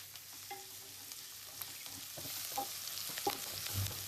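Prawns fry with a little turmeric powder in a home kitchen pan, a soft steady sizzle with occasional stirring scrapes and clicks, fairly quiet and with no talking.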